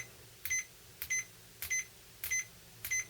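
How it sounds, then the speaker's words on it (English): A Fluke 87V multimeter's continuity buzzer gives five short, crisp electronic beeps at a steady, even interval. Each beep is loud against a quiet background, with no talking. "the continuity buzzer on the 87 is incredibly quick"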